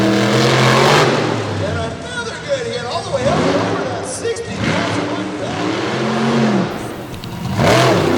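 A monster truck engine revs and surges repeatedly inside an arena during a freestyle run, loud rising and falling bursts of power under continuous commentary from an announcer.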